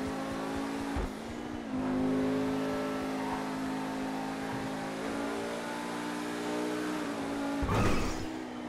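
Sports car engine from GTA Online gameplay, a sustained mid-level drone with short shifts and revs, one sharp burst near the end like a tire squeal or hard acceleration, no talking.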